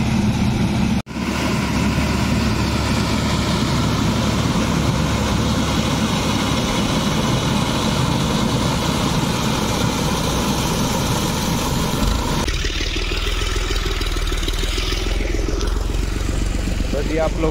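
A tractor working in a field during crop harvesting drones with a loud, steady low engine rumble throughout, briefly cut near the start, with a voice talking over it.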